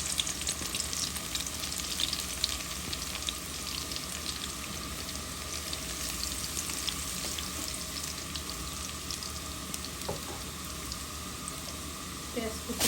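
Chopped garlic sizzles steadily in hot oil for a fish curry with cauliflower and potato, a dense, continuous frying hiss close by with occasional stirring scrapes, no talk.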